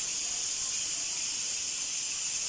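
Steady, unbroken high hiss of steam escaping a pressure cooker while beef cooks, continuous and even in loudness throughout, close by with no talking.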